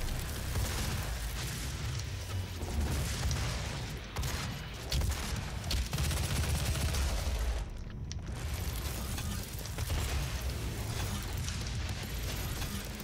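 A weapon in DOOM 2016 firing three projectiles at once, dense booming blasts and clanking mechanical game noise running continuously and loud, with no talking.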